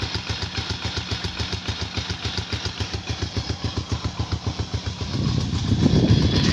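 A motorcycle engine idles after a leaking fuel hose was fixed, with a steady, rapid chugging pulse, close by, then revs up slightly toward the end.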